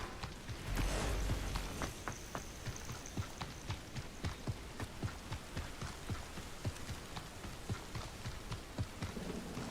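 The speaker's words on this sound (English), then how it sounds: "It started to rain." Steady rain pours in the Hogwarts Legacy game world, a dense hiss with a low rumble early on and soft rhythmic thuds, likely footsteps, running beneath it throughout.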